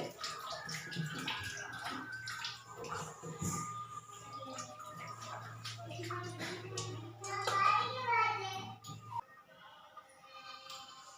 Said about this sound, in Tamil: இதோட வந்து பச்சை தண்ணி கொஞ்சம் ஒன்று ஊற்றி அலசிடலாம்.